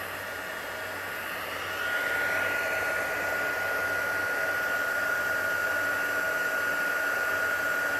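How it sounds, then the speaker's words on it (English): A heat tool melts embossing powder for card making, its fan blowing a steady close whoosh with a thin high whine that rises slightly in level early and then holds constant. "So you just keep moving your heat tool along, until you see that all of that powder"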